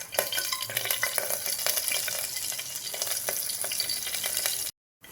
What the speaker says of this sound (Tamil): பட்டை கிராம்பு அன்னாச்சிப்பூ சோம்பு இதை எண்ணெயில் சேர்த்துக்கலாம்